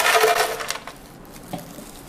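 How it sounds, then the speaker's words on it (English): Ice cubes clatter and crunch into a cup for a drink with syrup and Yakult, a loud rattling burst at first, then a few scattered clinks as it settles. "and a cup full of ice."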